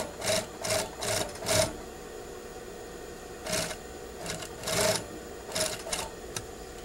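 A sewing machine with a cording foot stitches bias trim along a curved edge, running in several short bursts of whirring with brief pauses between, close and fairly quiet with no talk.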